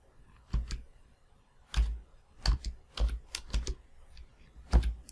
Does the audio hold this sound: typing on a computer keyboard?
yes